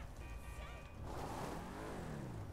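A three-wheeled motorbike in the video game GTA 5 drives along with a steady engine drone that rises into a revving, pitch-sliding acceleration partway through and stays fairly loud.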